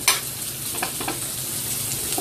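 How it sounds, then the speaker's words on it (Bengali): Chopped garlic and onion crackle in hot oil for a tempering, giving a constant close sizzle with a few faint stirring scrapes and no speech. "গায়ে সবজিতে বাগার দেওয়ার জন্য আমি এখানে রসুন কুচি করে নিয়েছি, তেলটা গরম দিয়েছি, সাথে একটু পেঁয়াজও দিব"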